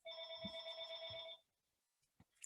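A telephone rings with a steady electronic trill for about a second and a half, then stops, faint in a quiet lecture room.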